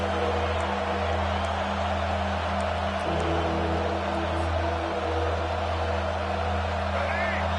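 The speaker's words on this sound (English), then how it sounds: "Decibels rising as the crowd gets behind this defense on third down" Stadium crowd roaring in support of the defense on third down in a college football game, a dense, continuous wash of crowd noise that holds steady throughout.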